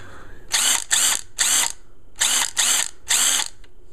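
Ryobi impact driver fires in six short, loud hammering bursts, grouped three and three with a brief gap between the groups, each a harsh rattling whir close by.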